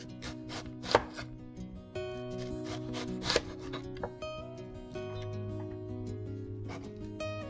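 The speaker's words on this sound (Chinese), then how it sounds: "把韭菜切成2英寸长，放入碗中，再切一些红洋葱丝" A knife chops chives on a cutting board and slices red onion, giving a series of crisp, close thuds and cuts in irregular rhythm, with no voices.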